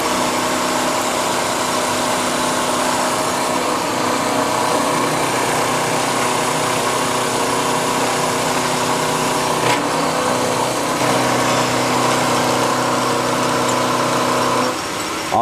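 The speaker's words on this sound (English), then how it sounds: "So very first thing is I'm going to turn my spindle on. I'm going to touch the top and skim it." Milling machine spindle running as a shell mill skims the top of a part, a continuous high-pitched motor whine with grinding texture, steady and close for the whole stretch with a brief shift near the end.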